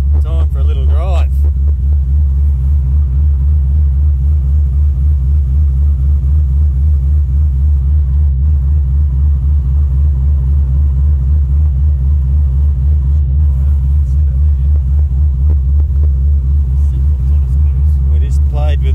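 Supercharged Holden VK Commodore engine running on a dyno, a loud, steady, deep pulsing rumble that holds constant and close for nearly twenty seconds, with little sign of rising revs.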